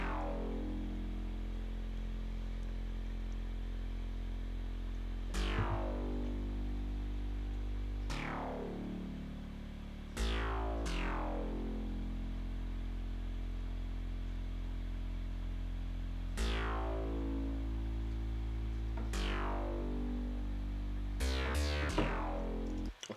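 Drum and bass synthwave bass built from a sine sub layered with a second oscillator, sounding as low sustained tones that change pitch every few seconds, each entry marked by a sharp descending sweep, with no talk.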